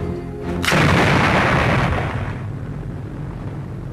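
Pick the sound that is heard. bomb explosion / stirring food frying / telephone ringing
bomb explosion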